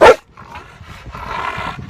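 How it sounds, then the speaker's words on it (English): A protection dog gives one sharp, loud bark up close, followed by quieter whining and huffing noises. "Barking him, Red."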